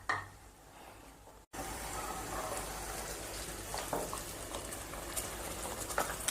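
Water splashes into a pan of cooking pumpkin butter masala after a brief pause, giving a steady bubbling, sizzling wash that continues at moderate loudness to the end.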